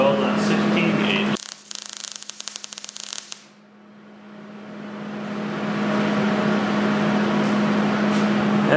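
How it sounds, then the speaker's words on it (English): Hobart MVP welder laying a fillet weld, heard as a steady, close crackling buzz over a constant low hum, with a voice at the start and the arc cutting out briefly before the hiss resumes. "So now we'll try a fillet weld on 16/8."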